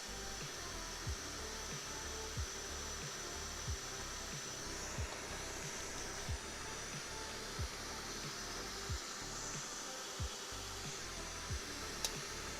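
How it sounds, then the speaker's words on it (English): A power sander works over the faces of a die, giving a steady, close, even whir with faint soft knocks repeating about once a second throughout. "sanding all the faces of the die makes it a lot more uniform and smooth"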